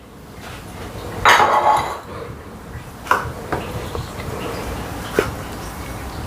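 Eggs go into a bowl for a homemade cake and are mixed by hand, giving a burst of clinking and scraping against the bowl followed by scattered sharp utensil taps over a quiet background.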